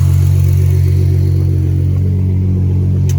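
A 2014 V6 Ford Mustang with deleted mufflers idles nearby, a loud, steady, deep rumble holding an even drone without change.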